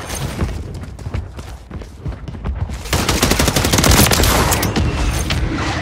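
Rapid gunfire rattles in a Call of Duty video game: dense, loud bursts of shots, sparser at first, then a heavier sustained volley in the second half.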